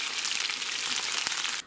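Chicken pieces for a pineapple chicken dish fry in hot oil, a steady, dense crackling sizzle that holds throughout with no talking and stops abruptly at the end.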